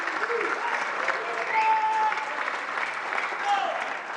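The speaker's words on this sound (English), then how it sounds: "A big round of applause to all of our undercard and our prelim panel" A crowd at a boxing news conference applauds steadily, a dense wash of clapping that holds for several seconds.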